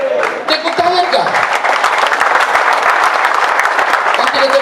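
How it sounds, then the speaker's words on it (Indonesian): A congregation at a prison worship service in Abepura claps together in loud, dense, continuous applause, with voices mixed in throughout. "Tepuk tangan kah?"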